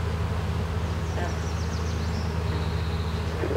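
Honeybees buzzing steadily on a brood frame crowded with eggs, pulled from an open hive, a continuous low hum close by with a few higher insect whines drifting through.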